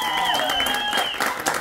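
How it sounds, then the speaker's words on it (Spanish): Short burst of applause from a small group during a dizzy ball-kicking challenge, dense clapping under high-pitched voices and shouting. "¡Aplauso!"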